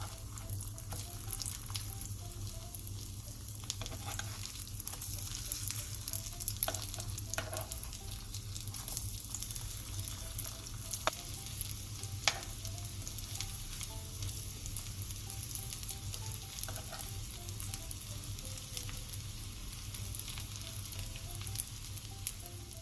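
Korean jeon pancakes pan-frying in oil for holiday food, a steady close sizzle and crackle continuing throughout with small scattered pops and no talking.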